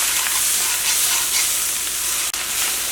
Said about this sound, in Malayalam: അതേപോലെ നമ്മളൊരു 3-4 മിനിറ്റ് ഹൈ ഫ്ലെയിമിൽ വെച്ചിട്ട് നന്നായിട്ട് ഇളക്കണം കേട്ടോ.